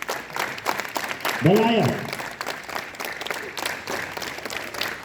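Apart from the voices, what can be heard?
children clapping hands at a school assembly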